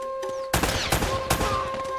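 Video game gunfire in Uncharted, a few loud, sharp shot bursts in quick succession over steady game background tones.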